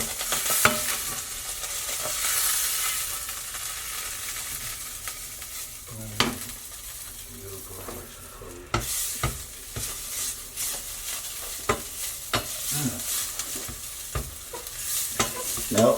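Butter sizzles and spits steadily in a crepe pan, a continuous close frying hiss broken by a few small clicks and knocks of utensils, with no talking.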